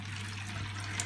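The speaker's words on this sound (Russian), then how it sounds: "наполнить раковину горячей холодной водой, воду закрыть" Hot and cold water running steadily from a tap, filling a sink basin, a brief continuous splashing hiss with a low hum underneath.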